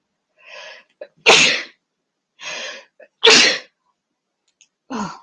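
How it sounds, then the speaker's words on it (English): Three sharp sneezes, each preceded by a short sharp inhale, come close and loud in quick succession. "I'm going to sneeze in a minute"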